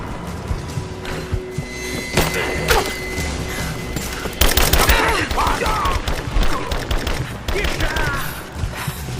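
Scattered gunfire and bursts of automatic weapons in the action game Rise of the Tomb Raider, mixed with thuds and crashes, under shouted enemy voices throughout, growing denser and louder midway.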